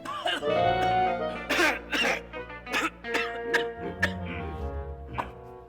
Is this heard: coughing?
yes